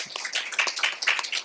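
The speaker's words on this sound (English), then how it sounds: "Please give her a round of applause" Brief burst of clapping from a meeting audience for a guest at a Manatee Tiger Bay Club event, dense and steady for a moment with no voices over it.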